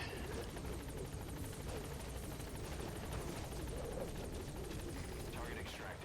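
Helicopter in the video game Metal Gear Solid V: The Phantom Pain, a steady rhythmic rotor chop with engine whine, continuous and fairly quiet throughout.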